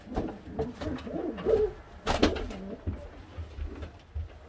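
Modena pigeon, a bronze opal hen near laying, cooing in a loft; several soft, low rolling coos come close and moderately loud, with a louder burst midway amid light background rustle.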